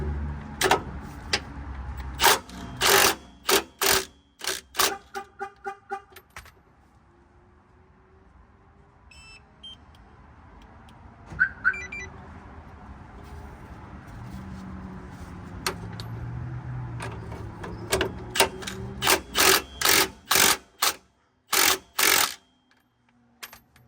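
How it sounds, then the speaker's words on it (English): Impact wrench working on a Panhard bar bolt of a Chevrolet Tahoe, heard as loud bursts of rapid hammering at the start and end, with quieter mechanical handling and faint movement in between. "I'll be using my impact, and I have a wrench in the back already."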